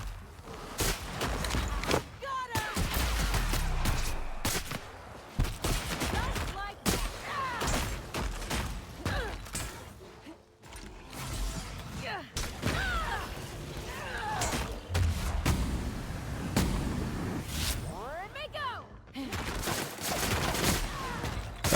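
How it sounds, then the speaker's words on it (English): Shotgun fire in the video game Who Killed Halcyon Helen?: repeated loud blasts spread through a busy mix of footsteps and impacts, with someone talking between shots. "Shotgun. Shotgun."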